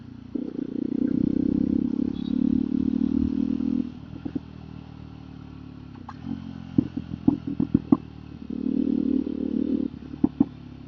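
A motorcycle idling at low revs while the rider pulls the clutch and shifts into first gear, with soft mechanical clicks and clatter, brief rev swells near the start and end, and a steady engine hum in between.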